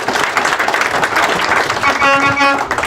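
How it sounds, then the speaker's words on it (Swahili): An audience at a Sacco society annual general meeting claps in a brief, dense burst of applause, with a speaking voice heard through it. "tuwapigie makofi mazuri wale."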